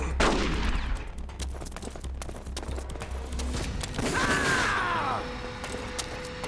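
Gunfire in a video game, with sharp shots and impacts scattered over a loud, dense mix of game sound, including a whooshing, rising sweep near the end.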